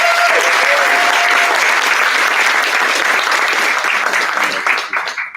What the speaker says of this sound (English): let's start with a round of applause to these teams that chose violence